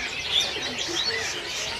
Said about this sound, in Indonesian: Ini tepus cungkring merah. Tepus tunggir merah.